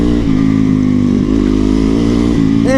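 A motorcycle engine drones loudly and steadily while riding, with a low rumbling throb and slight shifts in revs over the short stretch, no talking.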